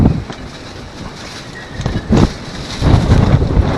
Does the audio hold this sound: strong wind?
yes